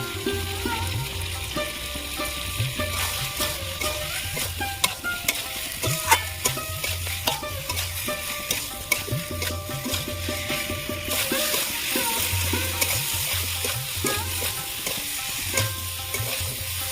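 Potatoes with peas are stir-fried in thick gravy, and a spatula scrapes the pan in a steady repeating rhythm over a continuous close sizzle, with no voices.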